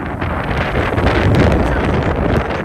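Strong wind carrying sand at the Bangui windmills, loud continuous roaring gusts battering the microphone, close and unbroken.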